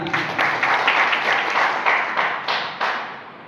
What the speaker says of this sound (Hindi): एक बार और जबरदस्त तालियां